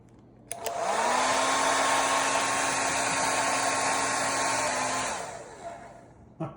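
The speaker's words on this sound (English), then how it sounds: "Hey, was it the blow dryer?" A blow dryer roars steadily and loudly for about four seconds, its motor whine sliding up as it starts and holding a constant tone until it cuts off.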